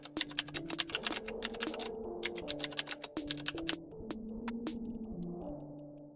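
Rapid typing on a computer keyboard, a steady stream of close, crisp key clicks with brief pauses, over a soft background tone and no voices.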